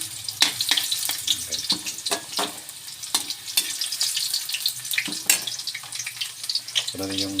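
Onion sizzling and frying in a hot pan with garlic to follow, a steady crackling hiss broken by sharp spatters and clinks, with a brief tonal hum near the end.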